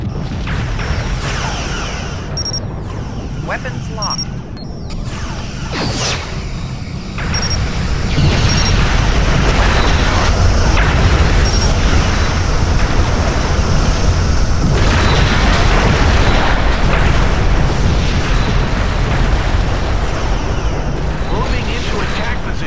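Phaser and torpedo fire in a Star Trek Legacy space battle brings a continuous run of booms, bursts and whooshes that grows louder partway through, with in-game voices mixed in.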